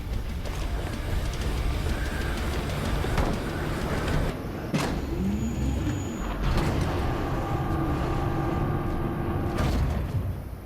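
A train in a Necromunda cutscene rumbles steadily with a loud, continuous mechanical roar, broken by metallic clanks, a hissing release and a rising screech as it moves.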